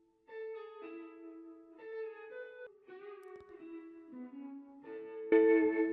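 Distorted electric guitar notes through an effects-laden amp, picked up by distant room and stairwell mics that add natural reverb, a melodic phrase of sustained tones ending on a louder chord.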